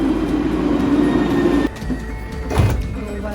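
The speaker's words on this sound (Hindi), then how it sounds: "ये आई हमारी ट्राम" Tram pulling into a stop in Nice, France, a steady low rumble and hum of the approaching car that drops off, then a brief clunk and rattle, with street ambience and no talk.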